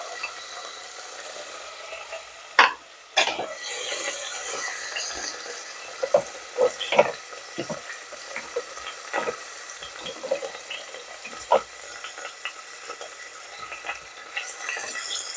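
Fenugreek leaves and green chilies fry in a pan with a soft, continuous sizzle. Sharp metallic taps and scrapes from a spatula stir through it, and no one speaks.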